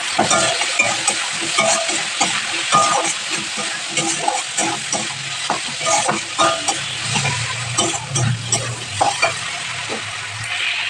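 Spice paste with sugar frying in a pan, a loud busy sizzle broken by rapid repeated scraping and stirring strokes throughout, close and continuous, with no talking.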